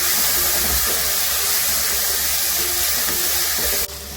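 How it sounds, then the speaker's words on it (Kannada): Masala sizzling and frying in hot oil in a home kitchen pan for chicken biryani, a steady close hiss and crackle that runs unbroken and drops slightly at the very end. "ಈಗ ನೋಡಿ ಇದು ಚೆನ್ನಾಗಿ ಫ್ರೈ ಆಗಿದೆ."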